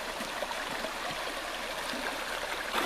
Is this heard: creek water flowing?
yes